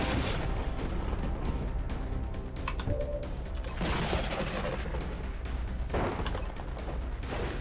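Gunfire from the video game XCOM Enemy Unknown, with dense, continuous bursts of shots and booming impacts loud throughout and no talk.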